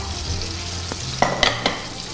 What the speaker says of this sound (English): Steak is cooking up lovely.